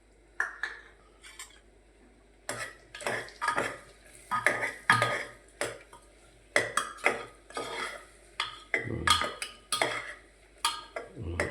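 Sweet potato curry with turmeric and coriander-cumin powder stirred in a metal pan, a spoon clattering and scraping against the sides in repeated bursts, close and fairly loud, with short pauses between.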